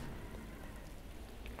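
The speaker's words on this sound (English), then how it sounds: "I don't like the rain, it's making everything so foggy." Rain falls in Roblox Jailbreak, a steady faint hiss of drops filling the short stretch with no other sounds above it.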